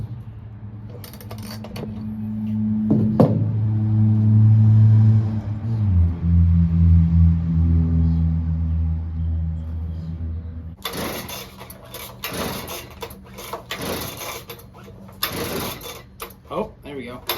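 Small flooded two-stroke engine cranked with a pull starter, sputtering and laboring in uneven bursts before a pause, followed by a second series of louder rapid pulls and rattling mechanical clatter.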